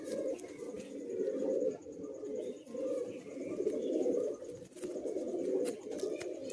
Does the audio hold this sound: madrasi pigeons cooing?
yes